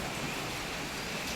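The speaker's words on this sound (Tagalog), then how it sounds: "Pumasok na yung tubig dito sa ating terrace." Floodwater from Typhoon Uwan in Bulacan pours into a house terrace at night, a steady broadband rush of flowing water with no pauses, close and continuous.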